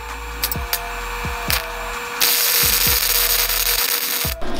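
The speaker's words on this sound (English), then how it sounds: "let's try tack welding this, see how this goes" Tack welding on a 3-inch exhaust for a K24-swapped Toyota MR2 Spyder: several short, sharp crackling bursts, then a longer continuous buzzing hiss for about two seconds before it cuts out, close and loud.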